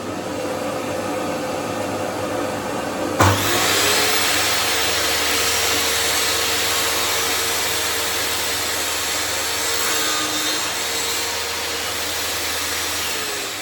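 An EXL 210mm table saw rips through very thin plywood while its dust extractor runs, giving a loud, steady broadband whine that starts abruptly a few seconds in and holds almost unchanged to the end, with no voices.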